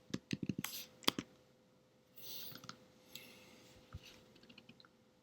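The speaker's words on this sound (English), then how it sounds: "So let's type in my IP address" Someone types on a computer keyboard, with quick bursts of close, sharp key clicks early on and then sparser taps and a soft rustle in a quiet room.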